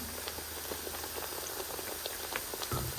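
Brinjal and cauliflower pakoras deep-frying in hot oil, a steady dense bubbling crackle with scattered pops, close and moderately quiet, with no voices.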